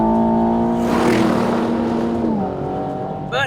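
A 2024 Aston Martin Vantage engine, rated at 665 horsepower, climbs in pitch as it accelerates hard, then drops back when it shifts. Loud and close, with a brief higher mechanical whine right at the end.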